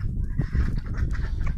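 Chickens cluck and murmur close by while pecking at food, a steady low chatter of farm fowl with no talk over it.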